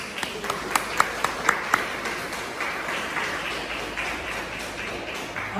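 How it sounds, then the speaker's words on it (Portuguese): Congregation clapping during a healing and deliverance church service, a few sharp distinct claps early on within a steady, moderate wash of applause. "Palmas para Jesus."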